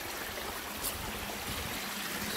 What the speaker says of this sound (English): we come to the first water crossing here.